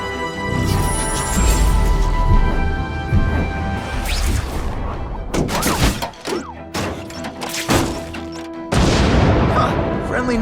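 Video-game explosions resembling fireworks in The Amazing Spider-Man 2 on PC: a run of heavy booms and thuds, some sharp cracks, bursting irregularly at close range amid other game sounds, with a voice speaking.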